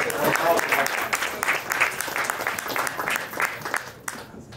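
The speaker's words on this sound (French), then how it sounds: "On pourrait vous donner une grande main d'applaudissement." A room full of people applauding newly sworn-in municipal council members, dense clapping that is strongest at the start and thins out toward the end, with some voices mixed in.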